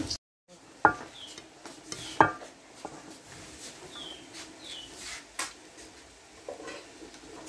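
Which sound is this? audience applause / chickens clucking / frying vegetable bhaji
frying vegetable bhaji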